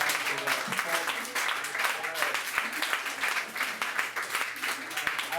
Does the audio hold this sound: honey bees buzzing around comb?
no